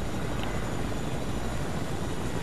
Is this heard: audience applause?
no